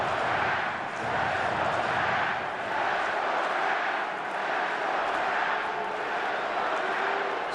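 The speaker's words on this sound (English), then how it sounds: "Scoreboard disrupting the booing by having the fans chant, "Let's go, Max."" At a Phillies vs Nationals baseball game, a stadium crowd boos and chants for pitcher Max, a dense sustained roar of many voices swelling in slow waves, with a broadcaster talking over it.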